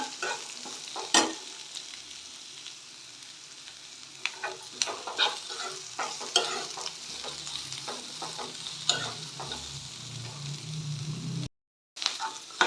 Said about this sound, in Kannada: ಇದನ್ನ ಐ ಫ್ಲೇಮಲ್ಲಿ ಫ್ರೈ ಮಾಡ್ಕೋಬೇಕು